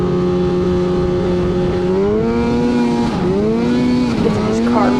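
A snowmobile with a paddle track rides across a Northern Michigan field, its engine droning loud and close and rising and falling in pitch through several revs as it carves back and forth, with a voice talking over it.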